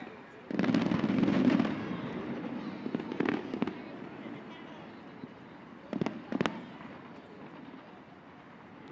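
Fireworks burst during a pro softball game: a loud rumbling barrage, then scattered sharp cracks and booms against a continuous crowd and stadium murmur.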